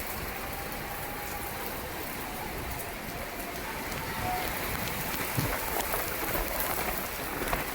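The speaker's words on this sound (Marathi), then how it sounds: "त्यानुसार आता पावसानं पुण्यात हजेरी लावली" Steady rain falls in Pune, a dense continuous hiss of drops on surfaces that grows slightly heavier toward the end, with no voices.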